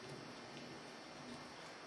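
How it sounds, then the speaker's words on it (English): Rain falling during a thunderstorm outdoors, a steady broadband hiss of drizzle with a faint low rumble underneath, continuous and quiet throughout. "I think it's starting to rain."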